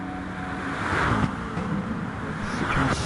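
A Citroen GT2 race car in GT Sport drones at steady high revs along a straight, its engine note swelling slightly as it holds speed.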